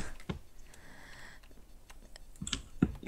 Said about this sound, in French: Donc là vous avez tous les bruits de clavier